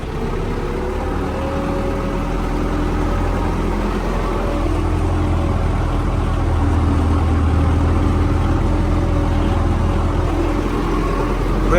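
Tractor engine running in low fifth gear on a farm field road, a steady, close, low-pitched drone that holds evenly throughout with a slight build toward the end.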